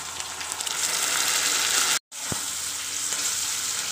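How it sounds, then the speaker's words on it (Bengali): Spice paste for chicken kosa sizzles and fries steadily in a pan while being stirred, a continuous close hiss broken by a brief cut of silence and a single clink before the frying resumes. "এবার মশলাটাকে ভালো করে কষিয়ে নিতে হবে একটু।"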